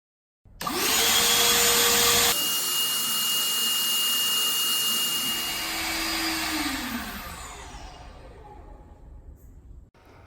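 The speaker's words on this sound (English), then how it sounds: "I just want to test the most runtime we can get out of this vacuum." A Ridgid full-size cordless vacuum switches on with a sharp surge, runs with a loud, steady whine and high motor tone, then shifts pitch and gradually spins down to quiet.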